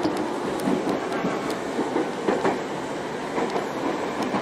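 Tokyo Metro Tozai Line train car running on the tracks toward Nishi-Funabashi, a steady loud rumble of wheels and rail joints with faint clicking throughout, heard from inside the carriage.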